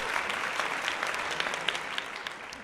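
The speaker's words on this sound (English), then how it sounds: "Round of applause for Perry being black" Crowd applause at a Jake Paul vs Mike Perry fight card watch party, a steady dense wash of clapping lasting the whole stretch, moderately distant and without speech.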